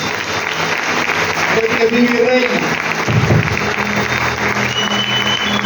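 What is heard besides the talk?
congregation applause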